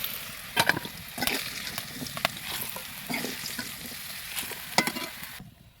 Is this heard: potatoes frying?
yes